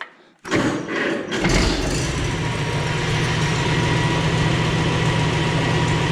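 A Farmall Super C tractor engine turns over, catches and settles into a loud, steady close idle with a low thumping rhythm.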